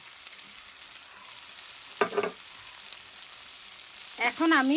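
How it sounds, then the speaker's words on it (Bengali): Ingredients for an egg dish fry in a pan with a faint, steady sizzle and a brief stirring scrape midway; a person starts speaking at the end. "এগুলো দিয়ে বেশ খানিকটা সময় কষিয়ে নেব।"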